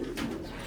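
A single soft, low coo from a racing pigeon, brief and fairly close, with no talking.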